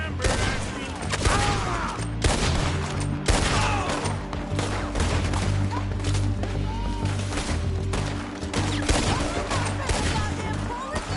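Rapid gunfire crackles in the open-world western video game Red Dead Redemption 2, a dense run of repeated loud shots and ricochets that barely lets up, with a character's voice briefly heard.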